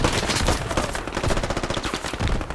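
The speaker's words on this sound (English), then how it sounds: "They're shooting me." Sustained automatic gunfire in the video game Squad rattles almost continuously, with dense rapid shots that mix near and distant bursts and never fully stop.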